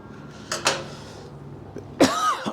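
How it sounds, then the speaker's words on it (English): A person coughs twice, a rough burst followed a moment later by a harsher hacking cough, close to the microphone with no talking. "Damn cough."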